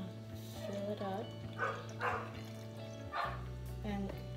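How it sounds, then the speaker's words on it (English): Neighbor's dogs bark a few times in the distance, short scattered yaps under a low hum and a person speaking in a kitchen. "excuse the neighbor's dogs"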